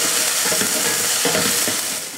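Shallots, garlic and small ginger pieces sauté in hot oil, giving a loud, steady sizzle, with a few soft scrapes of a spoon stirring through the pan and no voices.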